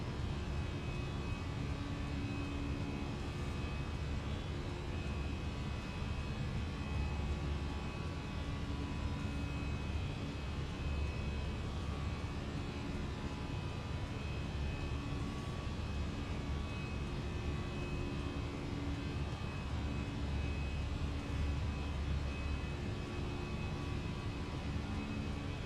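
Fenix A320 jet engines at climb power during takeoff in Microsoft Flight Simulator 2024, a steady, even roar and whine that holds constant throughout with no talk.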